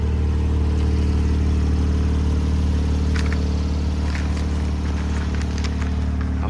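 Steady mid-pitched engine drone from a 2018 Porsche 911 GTS with sport exhaust, running continuously at a fairly even level with faint clicks and rattles on top, no talking.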